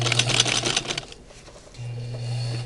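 Home sewing machine stitching a five-layer fabric face mask: a steady close whir with a rapid rattle, a brief pause, then the motor runs again.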